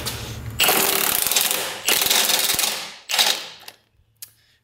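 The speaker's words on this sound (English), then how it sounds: "I know I'm using an impact here without impact extensions" Impact wrench hammering on engine bolts while a Toyota 2JZ engine is pulled from a MKIV Supra, driven without impact extensions; three loud close bursts, the last short, then a faint clink.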